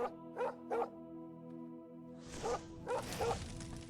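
A dog in The Elder Scrolls IV: Oblivion gives several short, close barks and yips in a steady rhythm over a faint game background hum.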